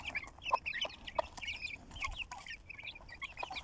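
Chickens and roosters in a Turkish coop cluck in a busy overlapping chorus, close and continuous, with short sharp calls repeating throughout and a low background murmur.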